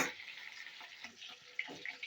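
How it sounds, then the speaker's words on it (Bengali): Fish frying in a pan with a soft, steady crackle and sizzle of hot oil, a few sharper pops, and a voice talking quietly over it. "এই যে মাছ ভাজছি।"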